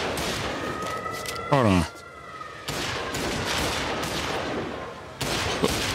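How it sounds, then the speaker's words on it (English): Gunfire in the video game Mafia Definitive Edition: bursts of rapid shots and sharp reports in bursts, with a loud ricocheting crack midway, under someone talking. "Who are you shooting at, sir?"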